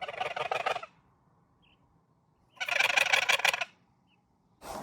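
A wild turkey gobbles twice in desert country a few hundred yards off, each burst a rapid rattling call lasting about a second, with a third starting at the end, over a quiet background and no talk.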